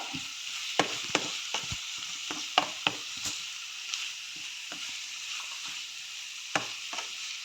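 A spoon stirs Kerala-style pepper chicken curry, about one and a half kilos of chicken, in a pan over a soft continuous sizzle, with sharp scattered clicks of metal against metal, close and quiet.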